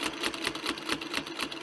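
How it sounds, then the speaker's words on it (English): A sewing machine top stitching a quarter-inch seam on a placemat, running in a fast, steady rhythmic chatter of needle strokes, close and continuous, with no voices. "Okay, I'm just finishing up my 1/4 inch top stitching."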